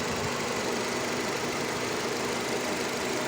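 Engine of a Nissan Terrano or Renault Duster running steadily after a valve repair, a close, even, dense hum with no distinct knocks or squeals, constant in level for the whole stretch.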